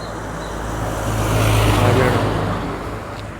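An MSRTC Lalpari bus passes close by on a road, a loud low engine rumble that swells as it nears and fades as it moves away.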